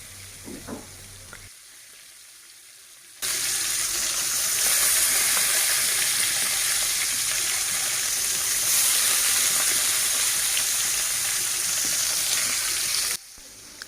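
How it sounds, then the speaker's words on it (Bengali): Tengra fish frying in hot oil, a loud steady sizzle that bursts in as the fish go into the pan and runs continuously for about ten seconds before cutting off, with quieter kitchen sounds before it. "যখন তেল গরম হয়ে গিয়েছে তারপর একটা একটা করে আমি মাছগুলো ভাজার জন্য দিয়ে দিচ্ছি"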